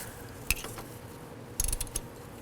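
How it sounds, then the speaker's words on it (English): A wrench removes the brake line bolt from the rear knuckle of a 2006-10 Honda Civic during a wheel hub job, giving a quiet, close click and then a short burst of ratcheting clicks. "We're going to go ahead and remove this bolt here that's holding the brake line"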